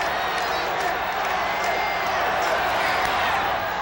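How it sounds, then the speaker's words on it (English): A packed stadium crowd at a 1985 World Series baseball game between the Cardinals and Royals chants and roars, a constant dense wall of voices with no pauses. "Crowd chanting Charlie, Charlie"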